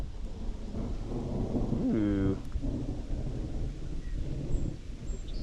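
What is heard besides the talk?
thunder during a storm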